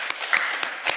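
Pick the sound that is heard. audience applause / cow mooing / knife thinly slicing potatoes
audience applause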